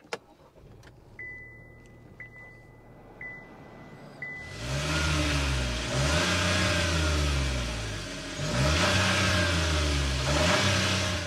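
A 2024 Buick Encore GX Avenir with a 1.3 turbo engine starts after a few soft chimes, catching with a loud burst, then settling into a steady idle with two distinct revs of the exhaust, close and alone.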